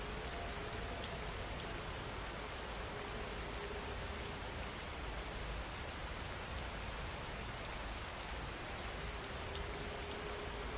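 Steady rain falling, a continuous even hiss of drops with no pauses, constant in level from start to finish.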